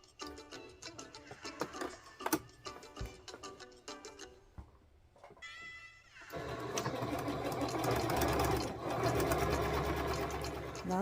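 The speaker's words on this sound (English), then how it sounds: "Now that we've completed our stitching" A sewing machine stitches a seam to taper dress pants, first in rapid stop-start bursts of close needle chatter, then settling into a louder continuous whirring run, with quiet moments between bursts.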